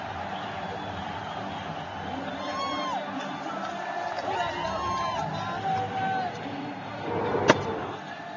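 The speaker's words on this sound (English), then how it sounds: "The crowd erupts." Stadium crowd at a Sylhet Super Stars versus Chittagong Vikings cricket match cheers after a boundary, a broad steady roar with whoops under the commentator's voice, plus one sharp bang near the end.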